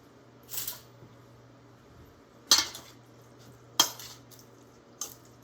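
Raw beef being mixed with salt in a bowl for a beef stew: a few quiet, scattered scraping clinks separated by pauses, with no talking.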